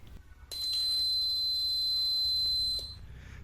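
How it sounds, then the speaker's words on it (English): A fire alarm science project model sounds its buzzer in one steady, piercing, high electronic tone that starts abruptly, holds for over two seconds, then cuts off, with faint background noise on either side. "Buzzer also buzz."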